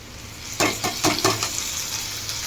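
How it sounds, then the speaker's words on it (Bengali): Fried onions with added spices being stirred in a pan for a chicken dish: a steady sizzle with several distinct scraping strokes of the spoon early on, close and moderately loud. "তো পেঁয়াজটা ভাজা হয়ে গেছে, এবার আমি এই মশলাটা এর মধ্যে অ্যাড করে দেবো।"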